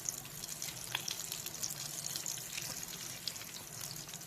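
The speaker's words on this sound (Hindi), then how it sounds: "पापलेट को पैन में अरेंज कर देंगे और दोनों साइड से क्रिस्पी होने तक फ्राई कर लेंगे।" Pomfret fish sizzling in a frying pan, a faint, steady crackle and hiss of hot oil with small pops, no voices.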